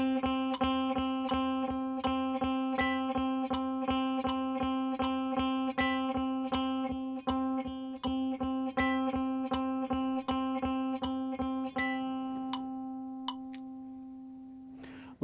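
A guitar picks a steady run of even eighth notes, bright sustained harmonics ringing through each evenly spaced attack for about twelve seconds before the last note fades out alone.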